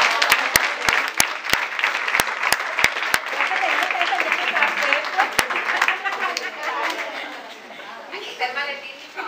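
An audience at a church gathering of Catholic apologists in Culiacán gives a strong, dense round of applause, with a few sharp individual claps at the start and voices murmuring underneath.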